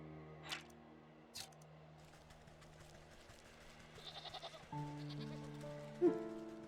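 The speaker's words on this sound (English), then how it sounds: "Oh, look at the goats!" Goats in the video game Wytchwood give a few short bleats, one near the start and another shortly after, then a louder cry near the end, set against a low hum and a soft rhythmic tapping.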